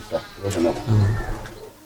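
Pigeons coo softly in low, rounded bursts, close by, over a brief stretch.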